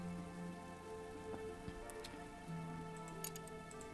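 Rain falls steadily in the Book of Hours video game, a soft continuous patter of drops with faint ticks scattered over a constant wash, and no voices.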